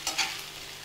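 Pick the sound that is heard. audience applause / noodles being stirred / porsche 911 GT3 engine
noodles being stirred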